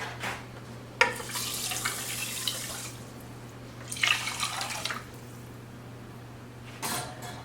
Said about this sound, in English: we'll just top that off with water, and then we'll add another cup of water